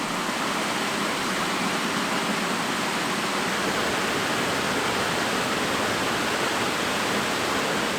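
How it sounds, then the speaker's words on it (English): Steady, full broadband rush of Creation Falls, a small mountain waterfall, pouring continuously and close by without pause or voices. "So pretty cool little waterfall"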